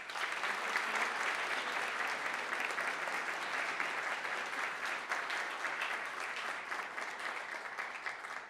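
Sustained loud applause from a crowd at a Colombian cabinet swearing-in ceremony, steady clapping that fills the whole stretch without pause.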